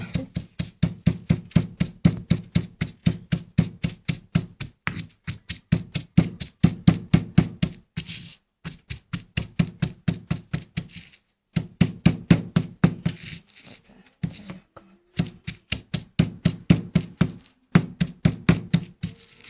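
Garlic being crushed with coarse salt grains for a Réunion rougail, likely pounded in a mortar, giving a steady run of sharp, close, rhythmic knocks with a few brief pauses and no talking.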